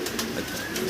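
Exhibition pigeons at a farm loft, including a black short-face pair, coo steadily and close by in soft, continuous throaty murmurs with no speech over them.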